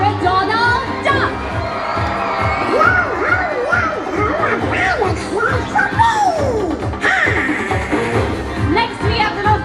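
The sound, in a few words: audience cheering for Pirate Donald Duck on Disney cruise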